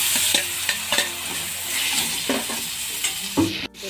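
Tomatoes frying in a pan with a constant loud sizzle, spatula scrapes and knocks landing every half second or so, close by, cutting off abruptly near the end.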